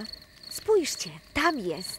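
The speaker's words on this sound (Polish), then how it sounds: "To jest odgłos ćwierkania świerszcza." Steady insect chirping runs throughout, a high continuous tone under two short bursts of cartoon voices talking.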